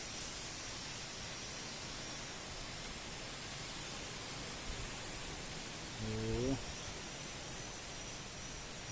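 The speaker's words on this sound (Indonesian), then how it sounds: "Dan ini gerimis kecilnya sudah datang" Light drizzle falls among swaying trees in strong wind, a faint, steady, even hiss throughout, with a brief tonal sound near the end.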